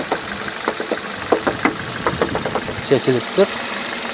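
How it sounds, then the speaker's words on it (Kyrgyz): Hyundai Solaris car engine idling steadily under close conversational speech, a low even engine hum running beneath the talking throughout. "Мотор жагы ровно иштеп турат."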